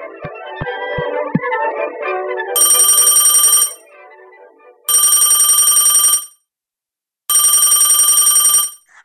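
An electronic telephone rings loudly in three long bursts separated by pauses, following a short musical jingle with plucked notes at the start.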